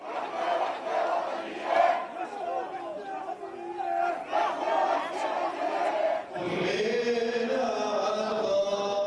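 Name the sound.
crowds filling the streets at a funeral procession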